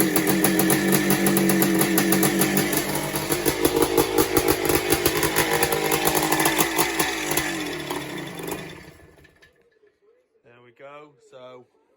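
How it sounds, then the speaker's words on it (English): A 1985 Yamaha YZ490 two-stroke dirt bike engine runs loud and close with a rapid, raspy, uneven idle that briefly revs, then cuts out and falls silent, followed by a few brief words. "try and start her, and then if she starts we can have a little video of her running"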